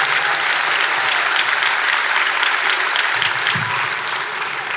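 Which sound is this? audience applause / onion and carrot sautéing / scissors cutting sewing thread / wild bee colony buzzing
audience applause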